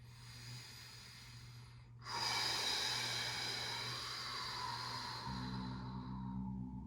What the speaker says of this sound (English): Breathing all the way in and all the way out.